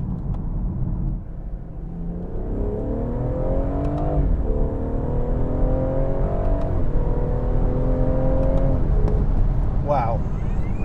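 A Ford Focus RS accelerates on the road, its engine and exhaust note rising in pitch through two or three revving pulls, with people talking over the steady cabin rumble.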